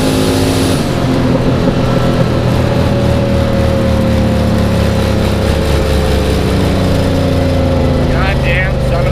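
A $6000 drag car's engine roars steadily through a hard run, a loud sustained drone with a slight stumble around a fumbled third gear shift, the exhaust note staying dense and continuous throughout.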